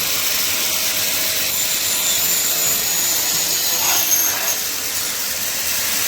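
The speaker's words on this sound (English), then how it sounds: "This is the circular saw motion." A portable circular saw runs steadily after switch-on, a high, even motor whine close by with no one talking over it.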